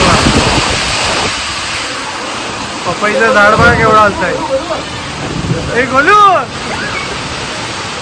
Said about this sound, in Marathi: नाही भयंकर पाऊस आहे ना